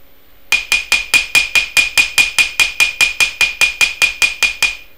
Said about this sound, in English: hope you can see my hammer movement